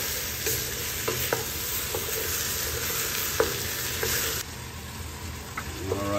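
Diced potatoes added to a pan with sausage for a breakfast lumpia filling, sizzling in a steady loud hiss with occasional scraping stirs, the frying quieting slightly near the end.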